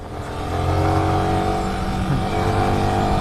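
A Yamaha R15 motorcycle is ridden with a steady, loud engine drone that rises slightly as it revs, heard close with no talk.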